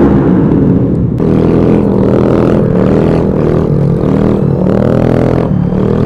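A third-generation KTM Duke 390 with an Akrapovic exhaust runs close by, its engine a loud, steady drone with small surges in revs and no talking.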